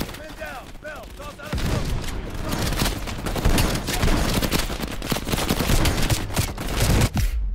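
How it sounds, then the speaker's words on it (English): Heavy gunfire in Call of Duty: Black Ops Cold War, with rapid bursts and sustained automatic fire rattling loud and close almost without pause. A voice talks faintly in the first seconds. "That is too much firing on me"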